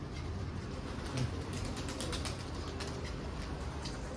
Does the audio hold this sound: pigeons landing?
yes